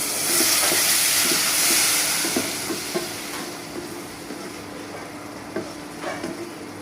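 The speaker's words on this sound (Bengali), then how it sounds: "এখন আমি এখানে সামান্য একটু পানি দিয়ে দেবো" Water hits a hot frying pan in a Bengali prawn and taro-stem cooking, bursting into a loud hissing sizzle that slowly fades over several seconds, with light utensil taps; no voices.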